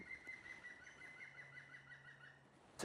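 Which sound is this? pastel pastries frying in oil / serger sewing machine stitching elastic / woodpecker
woodpecker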